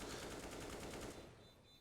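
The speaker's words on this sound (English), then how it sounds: "Not a terrible spot for Toric, considering the fire rate of the MP9" Rapid automatic MP9 submachine gun fire in Counter-Strike on the Inferno map, a dense continuous burst lasting over a second before tapering off, close and loud with no talking.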